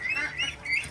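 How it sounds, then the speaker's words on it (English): Young farm ducks give a few high, thin peeping calls in quick succession, close by and fairly clear, with no voices. "This is the next generation of our ducks."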